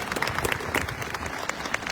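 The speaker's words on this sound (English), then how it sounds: "Let's clap for the sunshine." A crowd claps outdoors at a peace walk gathering at the Washington National Cathedral, a steady dense patter of many hands sustained throughout at moderate loudness.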